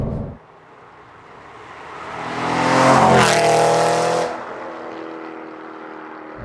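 An Aston Martin Vantage GT8 engine revs hard while driving, swelling to a loud, rising howl with tire noise, then easing back to a steady drone, heard close with no talk.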